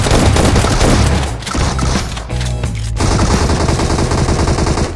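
Loud, nearly continuous automatic gunfire from the PUBG Mobile battle royale game, rapid bursts crowding the whole stretch with a brief dip in the middle before the shooting resumes.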